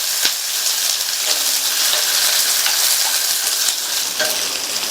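Two chopped onions with ginger and garlic sauté in a small pot for a vegetable gravy, giving a steady close sizzle with occasional stirring scrapes and no voices.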